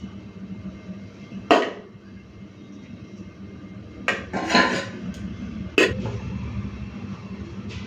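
Cooked rice is served from a pot onto a plate in a hot home kitchen, with a few sharp metal clanks of a spoon against the pot amid quiet background hum.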